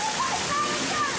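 Water splashing and sloshing steadily on the Splatalot obstacle course, a continuous loud rush heard under voices that talk and call out throughout.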